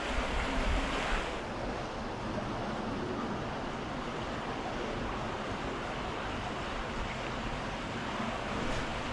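Fast-flowing water of the River Aire, running low, rushes in a steady, loud broadband roar that fills the whole stretch without a break.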